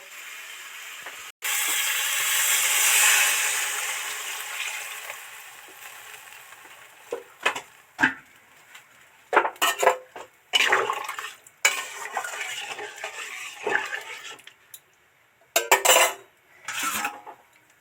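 Water rushes into a pan of spices for parshe fish jhal, a loud sustained pour that fades, followed by sharp clinks and scrapes of a utensil against the pan.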